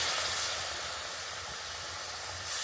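Water poured into a pan of hot roasted semolina, giving a steady broad hiss and steam sizzle that fades slightly midway and rises again at the end.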